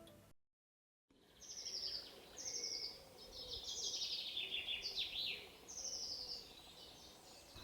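Several birds sing in a forest in clear, repeated bursts of bright chirping and warbling phrases over a steady low ambient hum, with a brief silent gap near the start.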